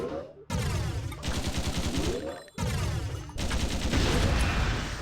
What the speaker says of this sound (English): that's a turret doing that